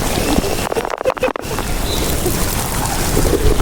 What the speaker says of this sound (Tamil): வந்துருச்சு வாட்டர் ஃபால்ஸ் வந்துருச்சு.